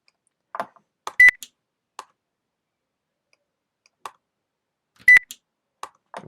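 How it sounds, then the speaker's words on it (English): Beep sound effects placed on an editing track sound as short, bright electronic tones, two distinct beeps a few seconds apart among faint clicks and ticks in near silence. "the beep is too loud for my liking"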